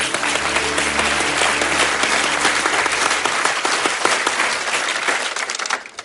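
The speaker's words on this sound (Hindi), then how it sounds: "सब लोग सुनीता के लिए ताली" Sustained audience applause for Sunita, a cancer patient, on a televised show, loud and dense throughout before tapering off near the end.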